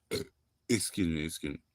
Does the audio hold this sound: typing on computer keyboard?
no